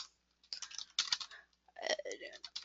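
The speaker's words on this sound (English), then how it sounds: "if you wouldn't mind just typing into the chat box so people have it, the URL" Typing on a computer keyboard comes through as quick, light clicking in short bursts with pauses between them, close by but quiet.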